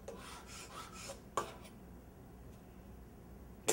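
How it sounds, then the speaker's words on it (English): Scraper dragged over dried glue squeeze-out on an edge-glued laminated solid wood panel, giving a few rasping strokes in the first second and a half, then a quieter pause and a sharp knock at the end. "Scrape that. Clean."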